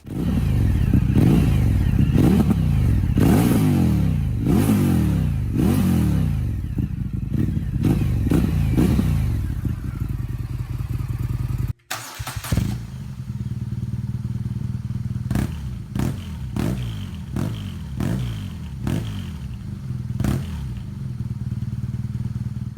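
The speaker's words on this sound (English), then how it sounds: "Let's also have a quick listen to how the exhausts sound." An Indian FTR or BMW R NineT motorcycle exhaust revs repeatedly in sharp bursts, then after a brief cut settles into a deep idle punctuated by quick throttle blips.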